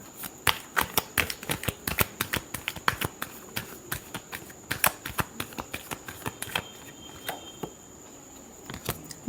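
Tarot cards being shuffled in a weekly horoscope reading, heard as a quick run of crisp, dry clicks and flicks at an uneven rhythm, close and fairly soft, with no talking.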